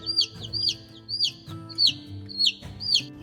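Baby chicks peep in a series of about six bright, evenly spaced chirps, close and clear over a low background hum.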